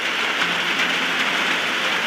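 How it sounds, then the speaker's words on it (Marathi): Heavy monsoon rain pours over the Konkan countryside just after rice sowing, a dense, steady hiss of downpour with no voices. "पेरणी झाल्यावर मस्त पाऊस पडतो आहे"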